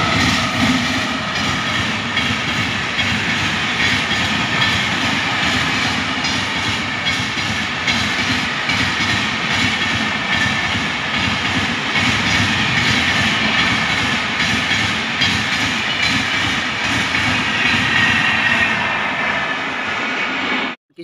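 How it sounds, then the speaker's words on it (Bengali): Rajdhani Express from Dibrugarh to New Delhi roars through a station without stopping, a loud, continuous rumble of wheels and carriages that stays steady for about twenty seconds before cutting off abruptly. "স্টেশন পার করে গেল ডিব্রুগড় থেকে নিউ দিল্লিগামী রাজধানী এক্সপ্রেস।"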